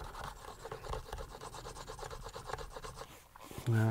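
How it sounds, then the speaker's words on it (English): Abrasive rubbing along the edges of a knife sheath, a rapid back-and-forth rasping scrape held close and fairly soft, ending with a brief louder thump. "and then just start rubbing it down"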